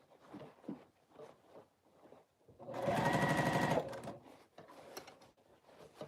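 A sewing machine runs a long basting stitch while a sleeve is prepared for the armhole, one loud, steady whirring burst of about a second amid quieter handling noises and faint voices.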